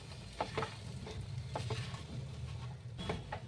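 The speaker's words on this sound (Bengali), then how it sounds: "এবার এগুলো আমি মিক্স করে দিচ্ছি।" Spiced masala potatoes fry in an oil-filled frying pan while being stirred. A steady low sizzle runs under several soft scraping strokes, close and quiet, with no voice.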